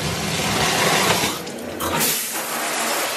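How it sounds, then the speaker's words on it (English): Water runs steadily from a shower, a loud, broad rushing hiss that dips briefly midway, with no speech. "All right, shower time."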